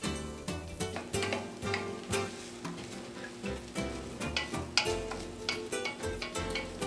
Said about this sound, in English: all of the grains of rice need to be coated in the oil, and you want them to just ever so slightly start to toast